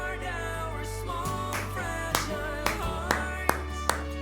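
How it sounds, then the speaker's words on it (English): One person claps a few separate, sharp claps that start sparse and come closer together over a steady low hum and background game sounds. "I'm standing and clapping for that shit."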